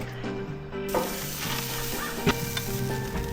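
Burger patties sizzle steadily in a frying pan, a constant crackling hiss with occasional stirring clinks and pops, cooked for a lake day outing.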